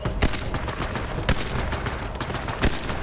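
Rapid gunfire from the Borderlands 3 video game, with sharp shots cracking out in quick succession over a dense, continuous bed of in-game action noise, a few louder reports standing out.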